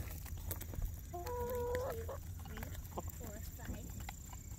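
Chickens cluck in short harmonic bursts, close by, while eating, over a steady low hum with some scattered faint knocks; a few calls rise and overlap.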